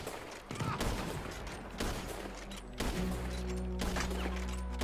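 Gunfire in the Western game Red Dead Redemption 2, with several heavy booming shots over a constant rumble of game noise.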